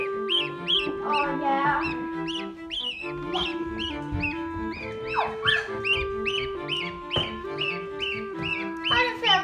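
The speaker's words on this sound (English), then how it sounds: "We've got 10 chickens and 2 geese in here now." A busy flock of ten chickens and two geese, chickens clucking and squawking mixed with geese honking, loud and close, calls overlapping continuously throughout.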